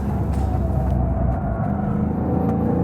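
A GT race car is driven fast around a road course and brakes into a turn, giving a steady, close engine drone that eases slightly as it slows.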